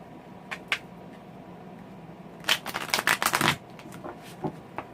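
A Santa Morta tarot deck is shuffled up close: a few brief riffles, then a dense burst of quick papery card flicks, ending in scattered taps.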